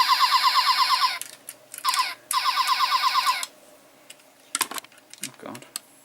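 Electronic sound effects from a Cybertron Sky Shadow toy: a loud warbling, pulsing alarm-like siren in two bursts, followed by clicks and handling noises with faint speech.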